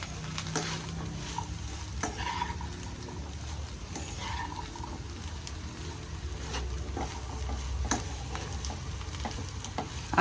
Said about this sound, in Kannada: ನೋಡಿ, ಚೆನ್ನಾಗಿ ಮಿಕ್ಸ್ ಮಾಡ್ಕೊಳ್ಳೋಣ